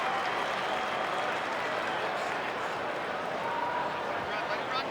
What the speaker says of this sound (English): As is the crowd, as you can hear.